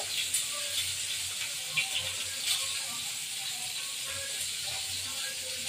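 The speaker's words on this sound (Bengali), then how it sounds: "এই যে রসুন সেদ্ধ করে দিচ্ছি।" Garlic and ginger boiling in water in a pot, a steady soft bubbling hiss with faint scattered pops, moderately close and continuous throughout.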